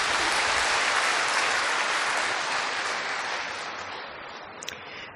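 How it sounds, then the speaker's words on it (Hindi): A large audience claps together in a dense, continuous wash of applause, loud at first, then slowly fading over several seconds, with no speech on top. "बजाओ ताली, उसने किया है"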